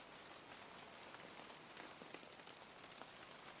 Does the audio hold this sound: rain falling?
yes